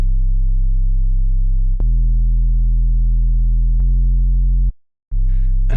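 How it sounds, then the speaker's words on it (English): Moog Grandmother synthesizer plays a deep, sustained bass line of long held notes, each change marked by a small click. It drops to silence briefly near the end before another note starts, heard alone with no voices. "Bass, Moog, grandmother."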